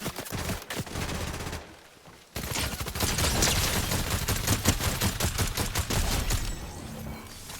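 Rapid automatic gunfire bursts in a zero build video game firefight, a brief pause near two seconds, then sustained dense shooting with sharp cracks, loud and close throughout.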